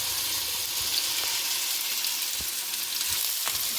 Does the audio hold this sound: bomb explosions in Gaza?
no